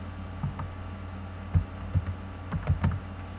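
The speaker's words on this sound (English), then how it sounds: "next we're going to type in vaccine." Keys on a computer keyboard are tapped while text goes into a Word table: about a dozen close, light clicks in small irregular bursts, with a quiet pause at the start.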